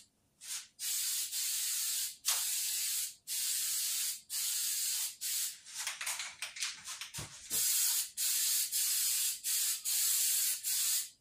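Galvanized paint is sprayed from a can onto a fence in repeated short hissing bursts, roughly a second each with brief gaps, and a quick clatter of shaking in the middle.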